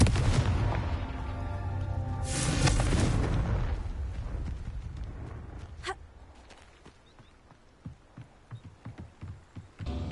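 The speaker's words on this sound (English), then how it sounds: "Confringo!" A Confringo fire spell detonates in the Hogwarts Legacy video game: a loud booming blast with a rolling rumble that fades, then a sharp crack, followed by a run of quieter thuds and footsteps.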